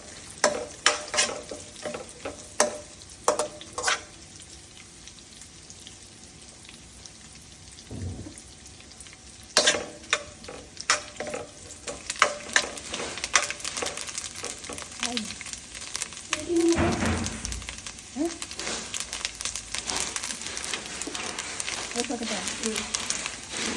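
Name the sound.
cashew nuts frying in the pan for payasam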